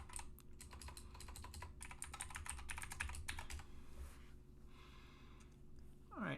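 A password is typed on a computer keyboard as a quick run of close, clicking keystrokes that stops partway through, followed by quiet room noise and a faint breath.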